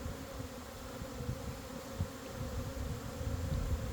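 Honeybees buzz steadily around overwintered hive nucs as foragers bring in pollen, a dense close swarm drone with individual bees passing near, no voices.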